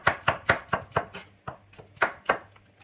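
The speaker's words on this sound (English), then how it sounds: "that's the onion nicely diced up" A knife chopping an onion on a cutting board, about a dozen sharp, close knocks in an uneven quick rhythm, heard alone without speech.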